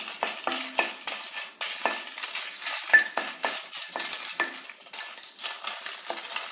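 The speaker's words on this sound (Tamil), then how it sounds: "மிளகாய் வற்றல் வறுக்கிற போது ஸ்டவ் வந்து சிம்மில் வச்சுக்கோங்க" Dried red chillies roasting in a kadai on a low flame, with a soft dry sizzle and a steady run of scraping, rattling stirs from a metal spatula, close and with no speech.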